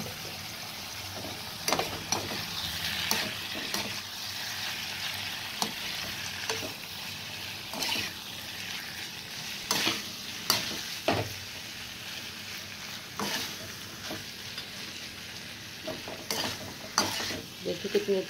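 Paneer slices frying in tomato gravy while being stirred, a soft continuous sizzle broken by repeated spoon scrapes and knocks against the pan, close and without talking.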